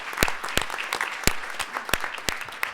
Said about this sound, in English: give Josh Hanfling a round of applause